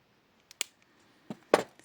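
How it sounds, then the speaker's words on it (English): Beading wire being snipped while stringing a jewelry set, a few small, sharp clicks of the cutters spaced apart, close and quiet in an otherwise silent room. "I'm going to want to cut some of this wire"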